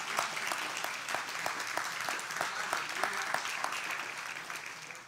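Church congregation clapping together in steady, lively rhythm throughout a service, a dense continuous wash of hand claps at moderate distance with some voices mixed in underneath.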